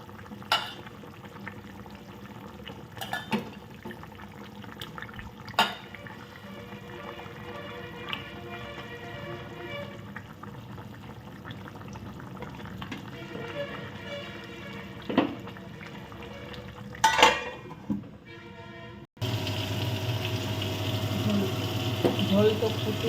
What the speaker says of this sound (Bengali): ঝোলটাকে ফুটতে শুরু করছে